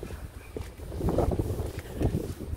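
Cold wind blowing straight off the estuary in Yeysk, buffeting the microphone on a street walk past cottage houses: a steady low roar with rising gusts throughout and no talking.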